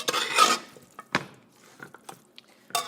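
Cut-up fresh turkey for Haitian bouillon is mixed by hand in a pot, with wet squelches, liquid sloshing and a few light knocks against the pot, close and irregular, no talking.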